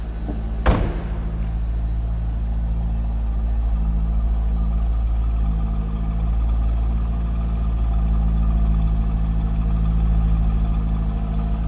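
A 1999 Chevrolet Corvette Convertible V8 engine idles with a deep, steady low rumble, heard up close from the rear, with a single sharp clack near the start.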